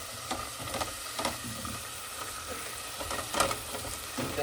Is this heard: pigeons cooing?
no